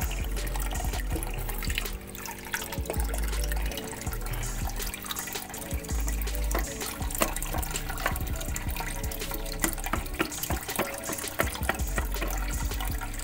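Water steadily fills the filter chamber of a turtle pond's undergravel filter system, a continuous broadband splashing and rushing flow that stays loud and even throughout, with no voices.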